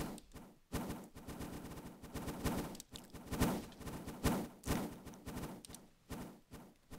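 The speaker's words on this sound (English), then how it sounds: "Oh my god, there's so many shots" Gunshots in the video game Call of Duty: Modern Warfare 3, a rapid stream of sharp repeated shots in bursts with brief pauses, fairly loud and continuous throughout.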